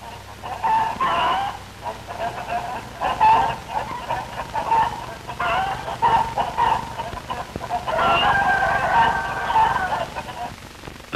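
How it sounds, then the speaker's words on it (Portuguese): Chickens and a rooster on a Brazilian agricultural school farm in 1959, a loud flock clucking and squawking in repeated bursts with crowing calls rising over the cackling throughout. "se conhecem as várias raças de galinhas e palmípedes"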